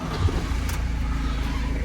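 A Fiat Ducato 6x2 van, an ex-disability bus, is running just after starting, a close, steady low engine rumble with a brief bump in the first moment.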